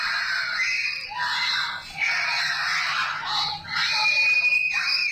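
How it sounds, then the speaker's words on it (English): Children screaming during a removal by child protective services, several high shrill sustained screams overlapping in long waves, loud and close, with brief dips between outbursts. "These are the kids screaming when they are kidnapped"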